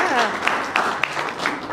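Audience applause fills a theater during a VIP event, a steady, dense wash of clapping with a few sharper claps standing out, and a voice briefly audible underneath.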